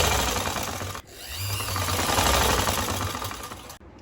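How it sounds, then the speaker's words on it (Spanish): A sewing machine stitching the sleeve of an elegant jacket, running in a loud close continuous whir with two brief pauses, no talking. "Ahora voy a coser la otra manga."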